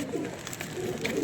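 Chappar pigeons kept by a pigeon fancier coo in low, throaty rolls, a steady overlapping burble from a few birds close at hand.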